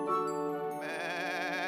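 Bleating from a goat offered for sale at a village market, a single sustained wavering call heard close and clear with no talk over it.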